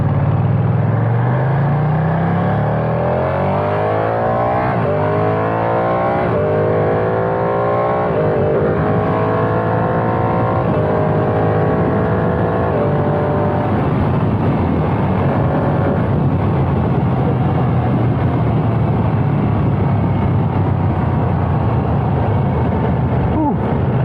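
A Ducati Panigale V2 sport motorcycle accelerates hard, its engine note climbing in pitch through several gear changes, with each shift marked by a brief dip before the revs rise again. The bike is loud and close throughout, then settles into a steady drone.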